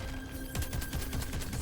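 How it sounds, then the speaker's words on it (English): Gunfire in the video game Crackdown 3: a quick burst of several sharp, evenly spaced shots, loud and close over a steady background hum. "More gunfire and grenades coming your way"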